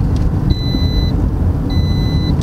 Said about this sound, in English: What's this beeping all the time here?